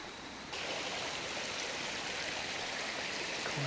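Creek water rushing steadily along a wooden flume line down to Cable Mill in Cades Cove, a continuous broadband rush that swells in after the first half second and holds, with no voices.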